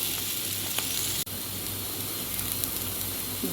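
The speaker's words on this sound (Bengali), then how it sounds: "আমি আরও একটু লাল লাল করে ভেজে নেব" Beans and potatoes with green chillies stir-frying in a pan, a steady close sizzle and crackle of oil that runs unbroken except for a brief dip in the middle.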